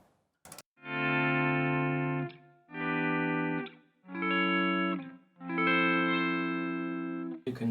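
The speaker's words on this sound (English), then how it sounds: "You can do some cool stuff like swell sound with the reverb and delay" Electric guitar chords swell in smoothly from silence four times via a volume pedal on a Line 6 Helix, each fading in gradually and trailing off with a reverberant reverb-and-delay tail.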